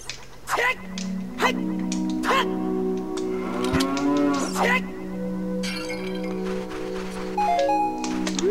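Cows in the video game Zelda: Ocarina of Time, in the Gerudo Valley area, moo repeatedly in game voice samples, laid over a steady looping music background with a few sharp clatters.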